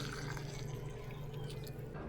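Liquid trickles and drips steadily through a paper filter in a pour-over coffee setup sitting over a mug, a soft continuous patter that stays quiet and close throughout.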